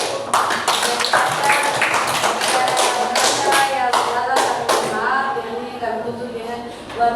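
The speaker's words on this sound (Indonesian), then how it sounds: "Ya, kita kasih aplaus." A classroom audience claps together, a burst of many hands in quick irregular applause that thins out toward the end, with voices faintly mixed in.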